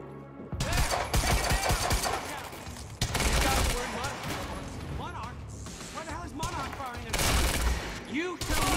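Bursts of rapid gunfire ring out in the video game Quantum Break, loud dense volleys with impacts and crashes in several waves, while someone talks over the shooting.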